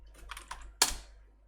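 A few quick taps on a computer keyboard, then one louder key strike, close and crisp in a quiet room.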